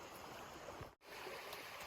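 A shallow creek on the Appalachian Trail flows with a steady, broad rushing hiss, constant and moderately quiet, briefly cut for an instant midway.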